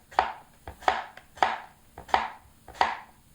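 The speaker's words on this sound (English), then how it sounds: "you can just slice as thin as you could" Thin cucumber slices cut with a knife for an oriental cucumber salad, five crisp chops against a board at an even, unhurried rhythm, close and clear with no talking.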